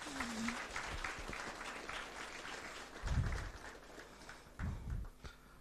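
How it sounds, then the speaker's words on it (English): An audience applauds in a hall for a student program, a faint, soft patter of clapping with a few low thumps scattered through it. "That was a resounding applause indeed to start this program."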